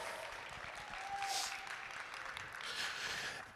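Audience applause fills an indoor arena at a youth fair lamb show, a steady, dense clatter of many hands clapping throughout with no clear break.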